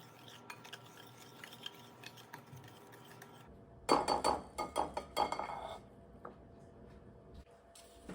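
Dry ingredients (flour, sugar, baking powder, salt, lemon zest) for lemon blueberry muffins are mixed in a bowl, heard as a burst of close utensil clinks and scraping against the bowl after a quiet stretch, then fading.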